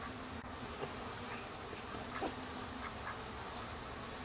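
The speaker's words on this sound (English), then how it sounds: "These bees are kind of slow this time." Honey bees hum at an open hive during an end-of-summer inspection, a soft, diffuse buzz that holds at a steady, moderate level throughout.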